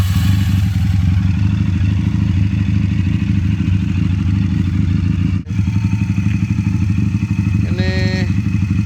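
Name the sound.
Regal Raptor Spyder 350 motorcycle engine with racing coil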